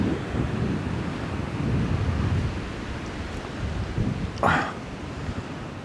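Waves washing onto an eroded beach in Pattaya, a steady broad surf wash with wind buffeting the microphone and a brief louder splash near the end.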